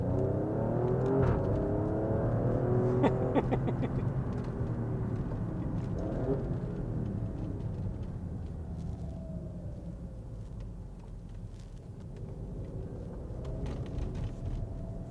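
A 2018 Alfa Romeo Stelvio Quadrifoglio drives along with a moderate engine rumble and a few revving surges early on, then settles into a quieter steady cruising hum.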